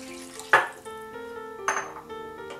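Rice and soaked lentils with vegetables are stirred in a metal cooking pot, two distinct scraping clanks of a spoon against the pot over a quiet background, with no talking.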